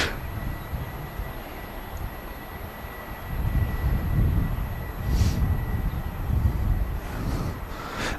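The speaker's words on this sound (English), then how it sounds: "An aircraft about to touch down. I think it's another EasyJet, actually." An EasyJet airliner comes in to land at Manchester Airport, a steady low engine roar and rushing rumble that swells noticeably in the second half as the jet draws nearer. A faint high whine sits over it throughout, with no voices.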